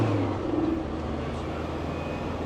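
Turbo whine from a Land Rover 110 with a 300 Tdi diesel running on a rolling-road dyno: a steady, loud mechanical whir and engine roar that holds through the short stretch without a break.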